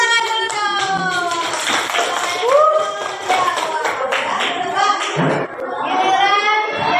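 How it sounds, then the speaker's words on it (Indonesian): Children clap their hands while dancing, a steady run of sharp claps with some thumps mixed in, under continuous singing and talk from kids and an adult leading the activity. "Menari tepuk tangan dulu dong."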